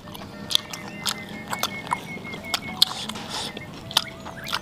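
Someone eats spicy balado tofu with sambal, and close, wet chewing and smacking bites come in irregular bursts against a quiet background, with no talk.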